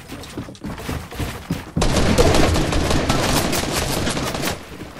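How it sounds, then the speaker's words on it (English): Dense automatic gunfire from a Fortnite match, a loud sustained volley of rapid shots that starts abruptly after a couple of seconds of sparser pops and keeps firing steadily to the end. "He's shooting you down."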